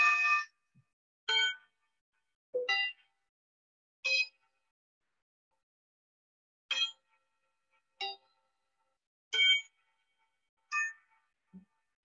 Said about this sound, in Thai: ขออนุญาตกดออดเรียกเพื่อน